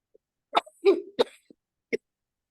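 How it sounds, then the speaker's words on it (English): A dry cough in a clinical setting: a few short, harsh bursts spaced over about two seconds, close and fairly loud against silence. "It's a dry cough."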